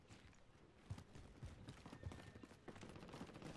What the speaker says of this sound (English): Gunshots over by fire station.